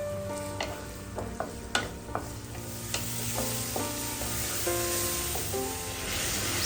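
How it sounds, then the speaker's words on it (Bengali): Chopped onion and garam masala frying in oil in a pan, a steady close sizzle with metallic scrapes and clinks of stirring scattered through, no talking. "তারপর একই পাত্রে আবার কিছুটা তেল দিয়ে সেখানে পেঁয়াজ কুচি, তারপর এই গরম মশলাগুলোকে দিয়ে ভালো মতো ভেজে নিব।"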